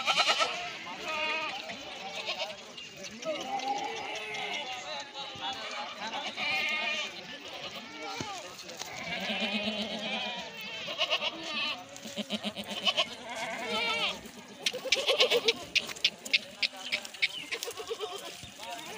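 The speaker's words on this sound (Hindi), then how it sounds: "ये माशाल्लाह 300 बकरा है।" A herd of around 300 castrated billy goats bleating over one another, many overlapping calls near and far, with someone talking over the din and sharp bursts of bleating toward the end.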